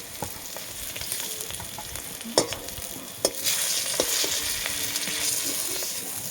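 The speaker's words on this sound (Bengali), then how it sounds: "দিয়ে ওই তেলটাতে এখন আমি বেগুনগুলো ভেজে নেব।" Eggplant slices frying in hot oil in a home kitchen, a steady bright sizzle with a few sharp clicks and stirring knocks, the crackle swelling louder partway through.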